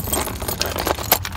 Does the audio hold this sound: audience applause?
no